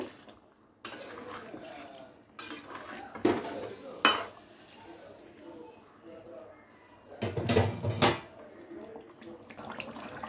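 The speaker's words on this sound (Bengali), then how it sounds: "আলুগুলো দিয়ে খুব ভালো করে একবার নেড়ে চেড়ে মিশিয়ে নেব" Potatoes being stirred into a mutton dak bungalow curry in a pot, with a few sharp metal scrapes and clanks of a spoon against the pot between quieter stretches, near and moderately loud.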